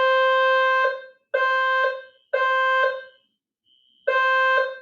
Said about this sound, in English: I guess that's it. That's the alarm.